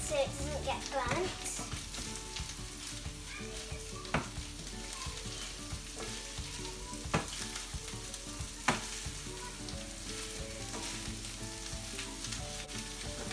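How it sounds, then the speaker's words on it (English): Liver frying in a pan for a liver salad, with a continuous close sizzle and repeated spatula scrapes and knocks as it is stirred to keep it from burning. "Now I'm going to start mixing it a little bit so it doesn't get burnt"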